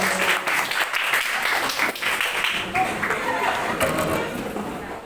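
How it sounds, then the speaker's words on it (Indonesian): Students in an art class clap together as a group, a dense, steady patter of many hands lasting several seconds before tapering slightly at the end. "Tepuk tangan dulu, silakan dulu."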